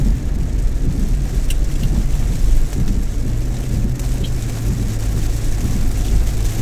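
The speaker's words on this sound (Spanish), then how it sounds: "comenzó a llover" Rain falls steadily on a car driving through a rural area of Rincón, Puerto Rico, with a constant wash of drops and road rumble mixed with low engine hum, fairly loud and continuous, and no talking.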